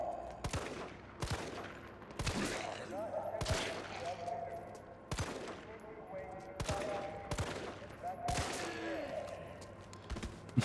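Gunfire from the video game Resident Evil 3 Remake, about eight loud, sharp shots spaced irregularly roughly a second apart, with quieter in-game tones and effects between them.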